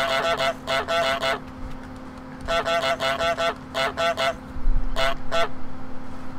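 A goose in Untitled Goose Game honks loudly and close in rapid clusters of several honks, pausing between bursts over a faint constant electronic hum.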